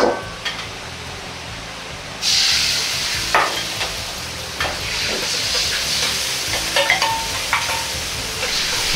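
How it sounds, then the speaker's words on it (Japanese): Steady sizzling and bubbling from a seasoning sauce boiling in a pot on the heat, with occasional soft clinks and stirring knocks close by, no voices. "鍋の油を切りタレを一度沸かしておきます"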